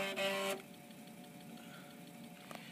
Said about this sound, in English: that 5 1/4 inch drive works perfectly fine